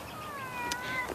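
A house cat meows several times close by, drawn-out tonal cries that bend in pitch, with a faint hiss of background noise and no talking.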